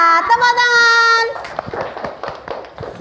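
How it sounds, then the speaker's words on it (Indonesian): Schoolchildren in a classroom clap their hands together in quick uneven bursts after a held sung chant, the claps close and bright with a few young voices mixed in. "Tepuk tangan."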